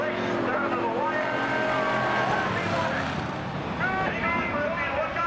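Race cars roar around a track at a close finish, with a continuous wash of engine whine and passing drones rising and falling beneath excited commentary.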